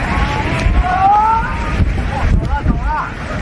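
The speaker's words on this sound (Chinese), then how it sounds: "这里好大风啊" Strong wind from Typhoon Wipha sweeping through coastal Beihai, a loud gusting rumble that buffets the microphone while people talk excitedly over it.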